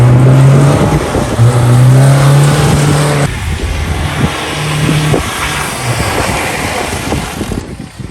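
Cars racing along a street at a racing spot in Moscow, Russia, with loud engine drone that holds steady, sweeps in pitch as vehicles pass, then eases into a rougher, lower roar.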